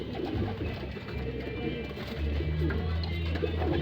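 Pigeons coo steadily in a loft, low throaty calls repeating and overlapping at close range, with a voice occasionally talking over them.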